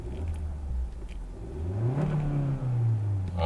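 A 2000cc gasoline engine in a Hyundai Sonata revs up, its pitch rising and then settling into a steady, loud hum, with no talking.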